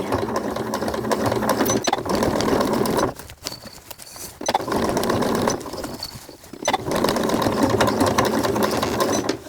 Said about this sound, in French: Et c'est parti pour la dernière couture du corps de la chenille.